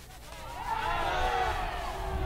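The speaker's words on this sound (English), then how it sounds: "Crowd reacting to Portillo." A soccer stadium crowd at an Energy FC vs. Charleston Battery match swells into a loud, sustained roar reacting to a player, a broad wash of many voices that rises and holds steady for about two seconds.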